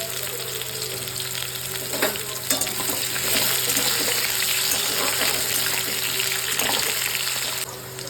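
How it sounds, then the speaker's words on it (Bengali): Potatoes with a pinch of sugar frying in hot oil, a loud, steady close-up sizzle with stirring scrapes, dropping slightly at the end, with no talking. "তেল গরম হয়ে গেছে। আলু দেওয়া হলো একটু চিনি"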